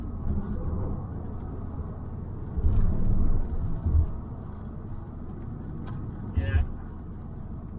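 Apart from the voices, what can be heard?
Audi TT Quattro engine sputtering while driving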